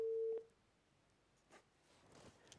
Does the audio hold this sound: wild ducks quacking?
no